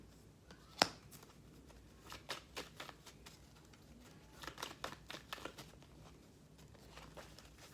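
Tarot cards being shuffled by hand, faint riffling and flicking in quick irregular bursts with one sharp slap early on, close and quiet with no voices.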